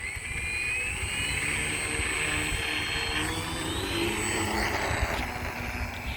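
A model jet aircraft spools up and takes off from a flying field on a windy day, a loud, steady high-pitched turbine whine with broadband roar holding throughout, rising slightly in pitch as it climbs away.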